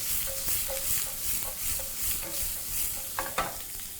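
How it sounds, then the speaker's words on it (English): Onions and vegetables sizzle in a frying pan over a flame for a turmeric rice stir fry, with a steady hiss and repeated soft tossing scrapes, fairly close and without speech. "Grab your pan and proceed to toss, being very careful with the flame."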